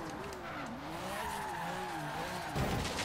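Car downshifting in Forza Horizon 3, with engine pitch sweeping up and down through the gears and tire squeal, ending in a sudden louder thump or impact.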